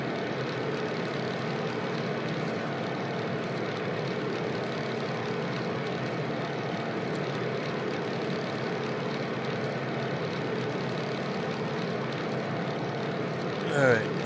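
A propeller airplane drones steadily in Microsoft Flight Simulator, a constant engine hum with whirring prop tone held for the whole stretch and only a brief bump near the end.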